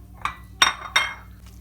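A spoon clinks against a pot while mushroom risotto with parmesan is stirred, giving three sharp metallic knocks spaced a few tenths of a second apart over a quiet background.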